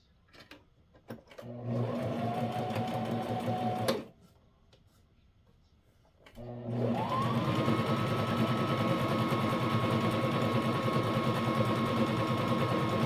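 A sewing machine stitches a wool diaper cover in two steady runs, a short burst, a pause of a couple of seconds, then a longer even whir, close and fairly quiet.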